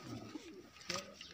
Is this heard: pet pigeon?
yes